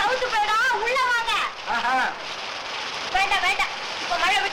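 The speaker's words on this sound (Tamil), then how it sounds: "இது பருவமழை, இப்ப வந்து நிக்காது, ரொம்ப நாள் ஆகும்" Steady monsoon rain pours in a dense, even hiss throughout, with people talking loudly over it.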